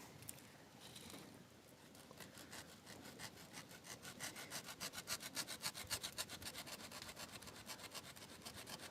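A hand saw rasps through wood in quickening back-and-forth strokes, faint at first and growing into a steady rhythmic cutting.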